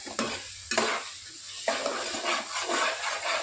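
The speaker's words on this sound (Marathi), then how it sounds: "आता हे छान परतून घेऊया" Pav bhaji masala, homemade red chilli powder and turmeric sauté in a pan with a soft sizzle, broken by several scraping spoon strokes of stirring, close and fairly quiet.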